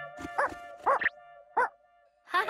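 A cartoon puppy yaps in short, bright barks, four separate bursts spread across the moment with quiet gaps between, over a steady background music tone.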